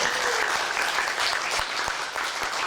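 Audience claps for a foreign worker contestant at a Korean-language speech contest, a dense, even burst of applause from the hall that holds steady throughout.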